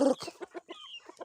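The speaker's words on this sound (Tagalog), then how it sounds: "mga alaga kong manok." Chickens cluck in short, rhythmic bursts close by, one call rising higher, with no talking.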